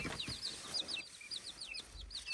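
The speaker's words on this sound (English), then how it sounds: "So here's your baby chickens." Seven baby chickens peeping close by, a rapid overlapping chorus of high, thin chirps with faint shuffling underneath.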